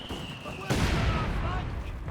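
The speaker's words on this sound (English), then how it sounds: "Bring out this machine gun." Machine gun fire in Company of Heroes 2, a continuous dense rattle of battlefield gunfire that swells suddenly partway through, with mixed combat noise around it.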